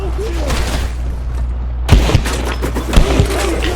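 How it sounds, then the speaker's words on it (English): Grenade blasts and rapid gunfire in the video game Outrider, loud layered bursts with a few heavy thumps breaking through a dense stream of shots, close and continuous. "That's a grenade. That's another grenade."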